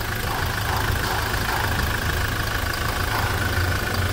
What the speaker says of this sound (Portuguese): do motor de 200 cavalos da Hilux.